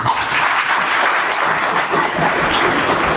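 Steady, dense applause from an audience at a mega job fair at Jamia Hamdard, loud and close, filling the whole stretch without any talking.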